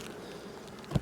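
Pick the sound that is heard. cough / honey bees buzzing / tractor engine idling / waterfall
honey bees buzzing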